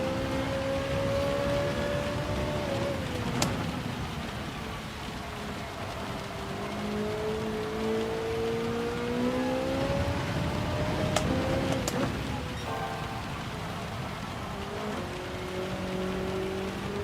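Race cars in a Gran Turismo 7 nations race in heavy rain, a continuous engine drone rising and falling through gear shifts over a wash of rain noise, with a few sharp clicks.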